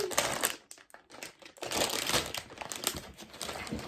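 A plastic parts bag from a LEGO Technic Lamborghini Huracán set crinkles loudly and continuously up close, with sharp rustles and brief pauses as it's handled.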